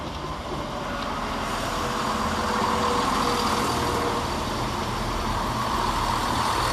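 A ScotRail passenger train, unit 170470 on a service from Edinburgh Waverley to Glenrothes, rolls into North Queensferry station with a steady, continuous rumble and hum that builds slightly as it draws near.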